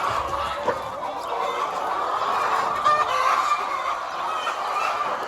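Young Tinted chickens cluck and murmur inside a coop, a busy overlapping chorus of soft calls at moderate volume with no speech.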